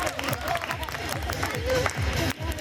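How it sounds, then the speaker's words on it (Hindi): Audience applause and crowd noise greet two volunteers joining a magician at a family magic show, a steady wash of clapping with murmured voices through a brief stretch. "एक बार दोनों के लिए जोर से तालियों से स्वागत किया"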